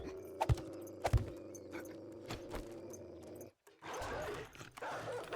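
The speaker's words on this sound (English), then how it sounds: "there is a dog." A dog in the survival video game 7 Days to Die, with a few sharp barks or thumps early, then low growling and scuffling sounds amid game ambience.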